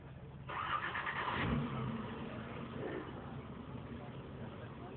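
A Toyota 4x4 climbs a steep slope off-road, its engine revving hard for a moment and then settling into a steady labouring drone, with voices talking over it.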